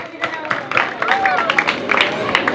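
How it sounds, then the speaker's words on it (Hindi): An audience claps at a Hindi poetry recitation evening in Lucknow, a thin, scattered patter of hands that never builds into full applause, with a voice talking over it. "तो आप लोग तालियां बजाइए, वरना कृपा अटकी रहेगी दोस्तों"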